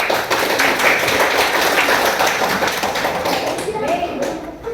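Classroom group clapping during a coaching session at a school, a few seconds of brisk scattered hand claps mixed with voices, fairly close and steady.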